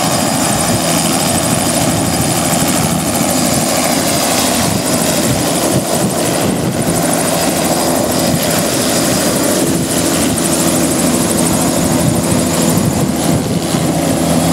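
Helicopter engines running at a steady, loud whine and rotor throb after an offshore flight, heard up close and continuous throughout with no pauses.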